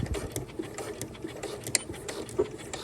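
Short bursts of a sewing machine back stitching across waistband elastic on pajama shorts, light uneven mechanical patter with small clicks, fairly quiet and close with no voices.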